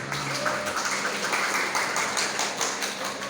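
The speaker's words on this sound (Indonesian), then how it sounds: "Tepuk tangan loh." Dense, continuous audience applause at a campus legislative seminar, many hands clapping at close range throughout, steady and fairly loud from start to finish.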